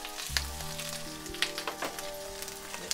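Rapeseed blossom tips hit hot oil in a pan for a peperoncino stir-fry, bursting into a soft sizzle with crisp pops and crackles, then a steady quiet frying hiss with light stirring clatter.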